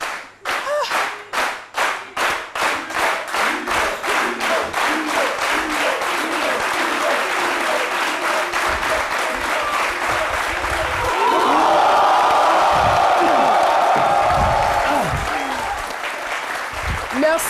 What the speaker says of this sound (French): Merci d'applaudir très très fort notre docteur philo, notre humoriste maison.